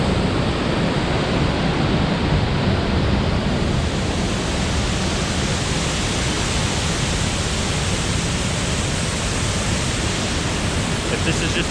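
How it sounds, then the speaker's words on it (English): A waterfall on a mountain trail in Chiapas roars in a dense, continuous rush of falling water, loud and steady throughout with no other sounds standing out. "so the first waterfall here on the trail is insanely cool."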